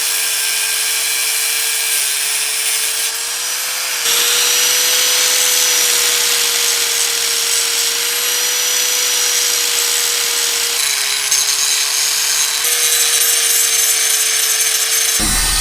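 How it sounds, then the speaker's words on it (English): A loud, steady angle grinder whines and hisses continuously for several seconds, cutting metal and smoothing welds, its harsh grinding tone shifting slightly as it works. "I'm gonna take the grinder, I'm gonna cut right there, smooth out these welds right here"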